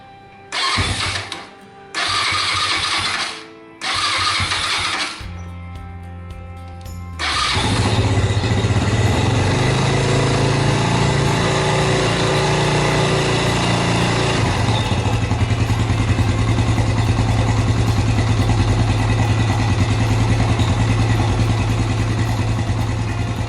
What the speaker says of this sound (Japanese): 一旦エンジンかけてもう一回確認します